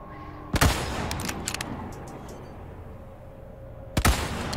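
Two loud sniper rifle shots in the Resident Evil 4 Remake video game, each a sharp crack with a booming tail, spaced a few seconds apart, with scattered smaller impact sounds in between.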